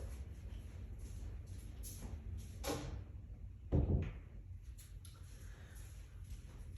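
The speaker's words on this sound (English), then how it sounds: "So I was just trying to close the door just so we can, you guys can hear me a little bit better." An indoor door swings shut with a single low thump, soft and slightly distant, after faint shuffling in a quiet room.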